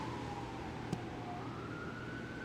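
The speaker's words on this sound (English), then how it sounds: "sorry about the ambulance in the background there" Ambulance siren wailing faintly in the distance during a storm, a thin rising and falling tone under steady background noise, with one brief tap near the start.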